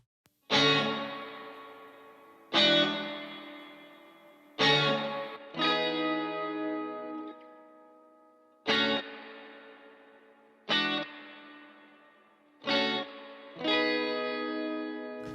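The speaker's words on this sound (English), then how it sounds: "So you can hear the AC30's reverb there, the built-in, I think it's a spring in there." Processed electric guitar chords struck one at a time through a Vox AC30 amp, each ringing out into a splashy, spring-like reverb tail from the amp's built-in spring reverb before the next hit; no voices.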